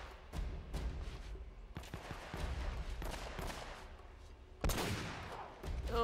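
Gunfire in Uncharted: Drake's Fortune (PS4 remaster) comes as sharp, separated shots and short bursts scattered across the clip. A louder close volley near the end stands out against quieter background action.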